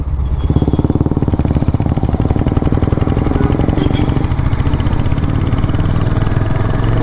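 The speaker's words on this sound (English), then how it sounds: "so torquey engine, so it will pull in the second gear as well quite cleanly" Royal Enfield Hunter 350cc motorcycle pulling cleanly in second gear, its single-cylinder engine thumping loud and close in a steady, even rhythm throughout.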